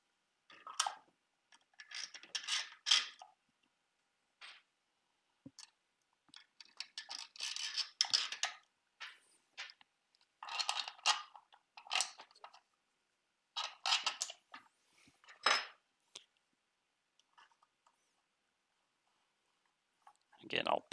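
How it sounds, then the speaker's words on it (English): Flathead screws being driven to fix a bracket onto a DIY linear actuator, with short bursts of clicky, ratcheting tool and metal contact sounds in irregular clusters separated by quiet gaps, close and fairly faint. "I'll partially tighten all the screws and then go around and do a full tighten to make sure all the holes are lined up."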